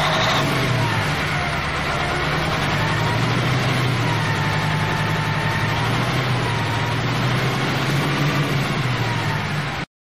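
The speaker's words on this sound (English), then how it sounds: "A truck." A large vehicle engine drones and revs continuously, its pitch rising and falling slightly as it runs nearby.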